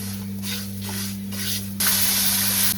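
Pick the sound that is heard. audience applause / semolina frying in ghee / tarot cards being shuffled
semolina frying in ghee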